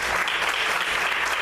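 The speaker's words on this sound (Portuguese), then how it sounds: "Você pode aplaudir o Senhor essa noite" A church congregation applauds during a Portuguese-language evening service, a dense, steady roar of many hands clapping together at close range, with no voices over it.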